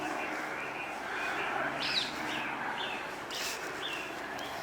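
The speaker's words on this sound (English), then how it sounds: "At least we can hear the birds," Birds sing in Regent's Park, London, with faint scattered chirps and short calls over a steady outdoor hum in the distance.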